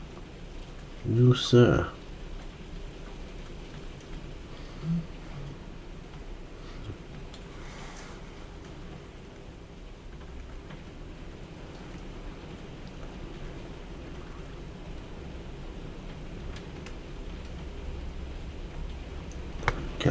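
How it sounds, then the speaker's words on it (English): Heavy rain pours down outdoors as a steady, faint hiss that runs throughout, heard from indoors behind a brief spoken reply and a couple of small knocks. "I don't know if you can hear that, that's the rain."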